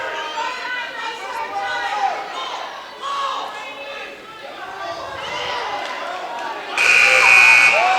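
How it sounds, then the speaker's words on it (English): A loud electronic buzzer blares for about a second at the end of a high school wrestling period in a gym, cutting through excited crowd cheering and shouting that fills the whole stretch before it. "saved by the buzzer there"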